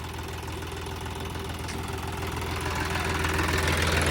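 A brand-new John Deere 5210 tractor with an 8-foot rotavator attached runs steadily at around 1600 rpm, a close, even diesel throb with rhythmic knocking that grows slightly louder toward the end, no talk.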